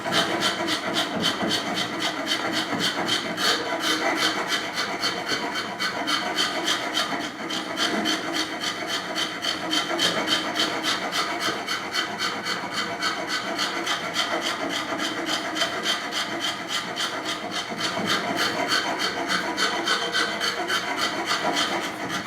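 A hand rasp shapes the nylon part of a Scout grip with steady, continuous scraping strokes close to the mic, running without a break and with no talk.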